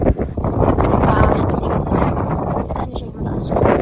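Strong, steady wind on a mountain at Little Baguio, Infanta, Quezon, roars and buffets the microphone throughout, a continuous loud rush with gusty swells and no break.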